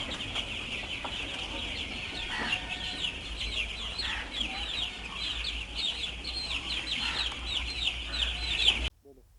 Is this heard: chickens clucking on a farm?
yes